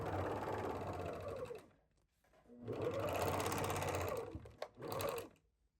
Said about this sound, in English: Overlock the seams to finish.